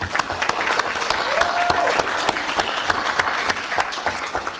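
An audience of parents at a youth sports gathering applauding, dense continuous clapping from a crowd that holds steady for several seconds, with a faint voice briefly audible underneath.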